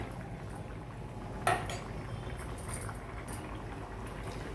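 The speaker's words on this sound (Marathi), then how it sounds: "आपल्या भाजीला छान उकळी पण आली आहे" A pot of vegetable curry with beans and potatoes bubbles at a steady rolling boil on high flame, with a soft low simmering wash and one brief clink of a utensil against the pan.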